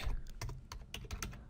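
Keystrokes on a computer keyboard while a short script name is typed, a quick irregular burst of close clicks and taps with no voices.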